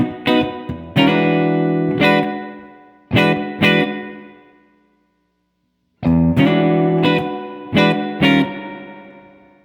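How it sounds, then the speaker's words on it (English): Bursts of distorted electric guitar chords through a Strymon Flint pedal, each followed by a springy reverb tail that rings out, with a brief silent gap in between. "Somewhere around here is where most of the longer spring sounds are produced"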